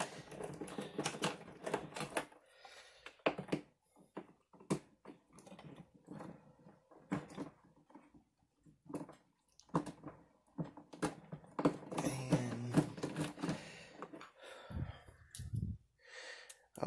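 Screws are undone on a Sunbeam quartz heater: irregular close clicks, scrapes and metallic ticks come in bursts separated by quiet gaps, with breathing and small vocal noises between.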